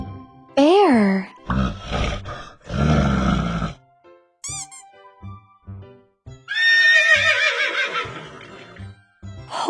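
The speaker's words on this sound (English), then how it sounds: "Horse." Horses neigh in loud, close whinnies with rising and falling squeals, heard in separate bursts between spoken words, one near the start and a longer one toward the end, alongside a lower roar-like call.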